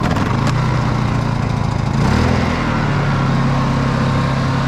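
A pull-start portable generator running steadily after starting, a loud, close, even engine drone with a slight shift in pitch partway through, no talking.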